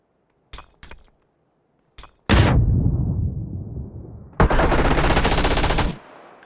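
Gunfire in PUBG starts with a few sharp single shots, then turns into a loud sustained burst with ringing echo and a second heavy volley before fading.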